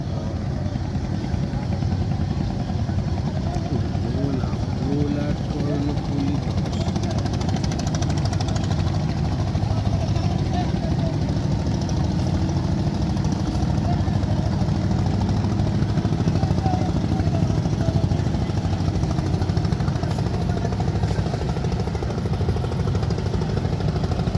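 A Bangladeshi passenger river launch, the Karnaphuli 10 from Bhola, docks at a ghat with its engine thumping in a loud, continuous drone that holds steady throughout amid the busy riverside din.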